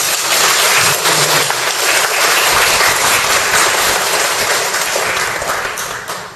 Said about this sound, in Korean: 우리 진심으로 환영하는 박수로 합니다